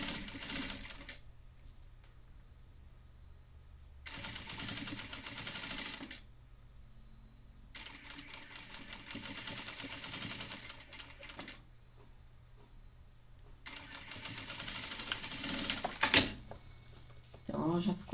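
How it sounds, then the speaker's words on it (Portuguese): A sewing machine stitching a tote bag seam runs in three separate bursts of steady, rapid mechanical chatter with quiet pauses between, and someone speaks softly throughout. "E vamos aqui fazer uma costura"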